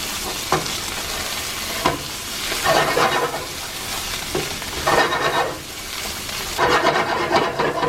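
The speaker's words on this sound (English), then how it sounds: "I'm gonna fry the paste a little bit along with the seasonings and some of the vegetables." Tomato paste frying in a pot with seasonings and vegetables for homemade chili, a loud, close sizzle that swells in bursts as it is stirred, with no talk.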